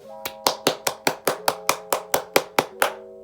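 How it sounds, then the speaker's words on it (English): Hands clap a dozen times in an even, quick rhythm, each sharp, close and loud, ringing briefly with a tonal hum behind them and no talking. "Clap it up for him, you know?"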